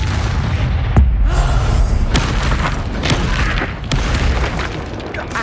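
The Incendio fire spell goes off in Hogwarts Legacy amid a dense, continuous roar of booming, crackling magical combat that stays loud and busy throughout, with several sharper bursts along the way.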